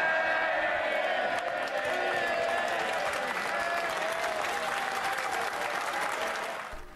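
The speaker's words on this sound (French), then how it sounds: "Les députés étaient debout pour applaudir dans la salle." Sustained applause from standing members of the UK House of Commons in a big reverberant chamber, dense and steady for several seconds before tapering off at the end.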